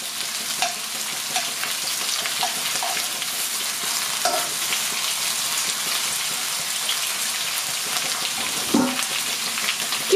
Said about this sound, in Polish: To nie jest patelnia teflonowa i nic nie szkodzi, że mieszam metalową szpatułką.